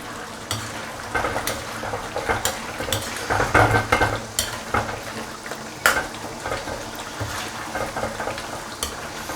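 Green and red peppers and onion simmer in a wok, giving a steady wet sizzle broken by repeated scrapes and clinks of a spatula stirring against the pan, close and fairly loud with no talking.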